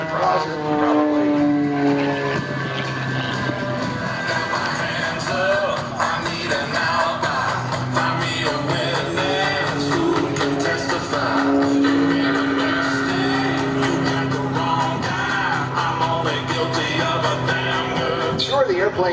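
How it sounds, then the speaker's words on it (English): An Extra aerobatic airplane flies at an airshow, its propeller engine droning loud and steady with shifting pitch while an announcer talks over a public address system throughout. "the airplane's purpose-built for aerobatics"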